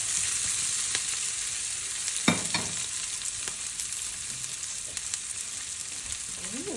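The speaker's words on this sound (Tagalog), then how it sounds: "gisa-gisa lang natin ang panguna" Aromatics sautéing for stir-fried bean sprouts with tofu crackle in a hot pan, a steady sizzle with a few sharp stirring clacks around the middle, no voices.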